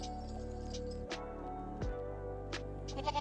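A goat bleats close by in a steady, wavering cry that lasts the whole stretch, with a few short breaks and small clicks. No one is talking.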